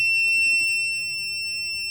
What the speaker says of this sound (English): When you power on the printer, it will start pumping ink and there will show alarm sounds coming.